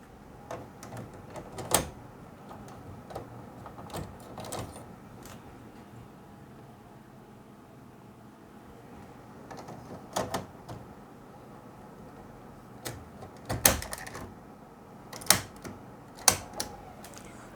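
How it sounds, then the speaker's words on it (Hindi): Canon G3000 inkjet printer having its print head removed and reinserted: a series of sharp plastic clicks and snaps, some isolated and some in quick clusters, close and moderately loud over a faint steady background, with no talk. "पिन हेड को निकाल के एक बार फिर से यहाँ पे लगा देंगे"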